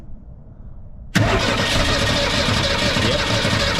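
A 1965 Ford Falcon engine cranks as someone tries to start it, a loud, dense mechanical roar bursting in abruptly after a second of near-quiet and holding steady to the end.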